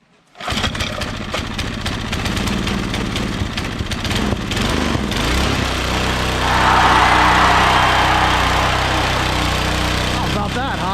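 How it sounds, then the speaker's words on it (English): A 53-year-old Toro Power Handle Snow Hound 20-inch snowblower attachment, cold-started, coughs to life and keeps running in a steady buzzing small-engine putter, close and loud, rising slightly midway while someone talks over it. "Can you believe that started up like that?"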